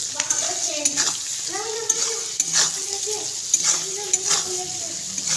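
Goat meat trimmings being stir-fried with turmeric and salt sizzle steadily under repeated scraping stirs. Someone speaks over the sizzling throughout.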